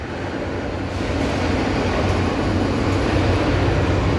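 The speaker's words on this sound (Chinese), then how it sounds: "火车站哦，高雄火车站。" Steady, loud rumble of a train at Kaohsiung railway station in Taiwan, a continuous low-heavy roar that holds evenly throughout with no voices.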